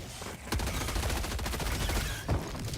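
Rapid automatic weapon fire from the Helldivers video game rattles loud and sustained in a dense burst, briefly broken before resuming.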